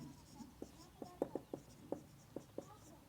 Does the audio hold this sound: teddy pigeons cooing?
no